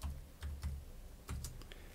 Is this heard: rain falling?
no